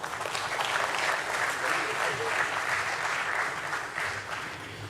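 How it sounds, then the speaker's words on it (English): An audience at a company listing ceremony at the Bombay Stock Exchange claps steadily, a fairly soft but continuous round of applause from a seated crowd in a hall. "Let's welcome him on stage with a round of applause."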